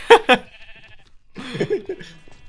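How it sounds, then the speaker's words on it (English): Sheep bleating in a video game, two sharp close bleats followed after a pause by a longer wavering bleat, with faint background sound between. "I'll spectate you trying to get this very uninterested sheep up the stairs"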